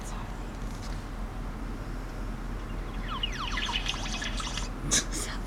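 African wild birds give rapid, descending laser-like whistled calls that burst in partway through, a dense run of sweeping chirps at moderate distance over a steady background hiss, with a sharper squawk near the end.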